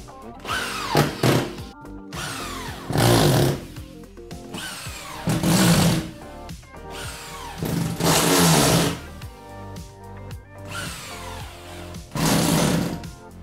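Power screwdriver running in repeated bursts of a few seconds each as screws are driven into plasterboard on a metal stud frame, with quieter handling noise between bursts, close and loud.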